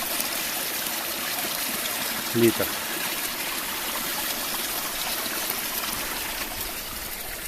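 An icy mountain stream rushes and trickles steadily near the listener, a constant broadband wash, with a short spoken word partway through.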